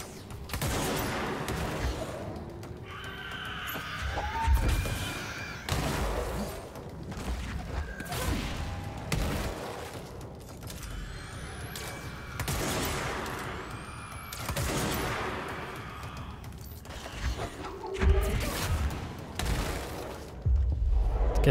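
Gunfire in the video game Control, bursts of shots and booming impacts in repeated clusters separated by short lulls, fairly loud and close.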